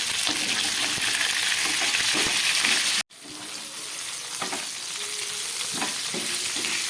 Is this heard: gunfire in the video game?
no